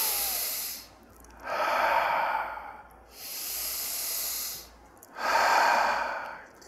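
Slow, deep breaths during chair yoga, with long hissing inhales and exhales alternating in a steady, unhurried rhythm, close and alone without talk.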